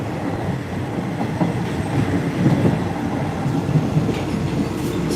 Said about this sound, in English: So we're on the railroad.